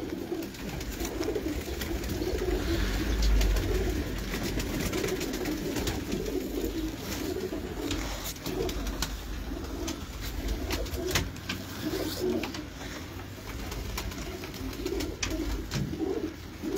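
High flyer pigeons coo steadily in a Lahore loft, soft repeated throaty calls layered together at close range across the whole stretch, with a constant background hum and no talk.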